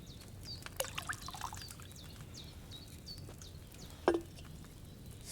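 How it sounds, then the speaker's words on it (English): Wine is poured from a pitcher into a cauldron in the medieval video game Kingdom Come: Deliverance 2, a faint, quiet trickle with birds chirping softly in the background. "So, what did you pour in there? Wine, of course."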